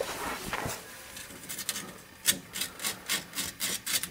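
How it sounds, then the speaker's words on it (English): Emery cloth rubs rust off old fuel line fitting surfaces on a 1997 Suzuki Sidekick, a series of short, fairly quiet rasping strokes in a steady rhythm, close by with no talk. "take a piece of emery cloth and just kind of make sure that all the surfaces"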